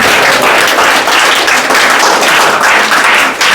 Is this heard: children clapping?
yes